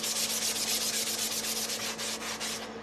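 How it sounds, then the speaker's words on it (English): Steady rhythmic rasp of a sanding block rubbed back and forth over a surface, close and continuous, with a low hum underneath. "So let's just sand a little bit"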